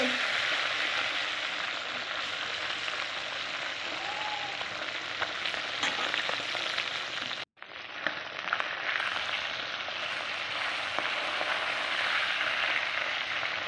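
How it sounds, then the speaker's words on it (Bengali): Koi fish fry in mustard oil in a wok, a steady crackling sizzle that runs throughout with a brief dropout midway, no voices over it. "মাছটা একটু কড়া করে আমি ভেজে নিচ্ছি"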